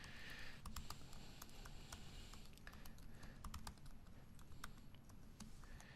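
Keys on a computer keyboard are tapped in quick, uneven bursts while a password is entered, crisp individual clicks close by over a faint steady room hiss.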